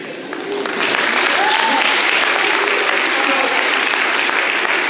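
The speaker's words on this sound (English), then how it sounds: "let's give a round of applause for food" Audience applause at a chapel gathering, a dense wash of clapping that swells within the first second and holds steady and loud, with faint voices mixed into the crowd.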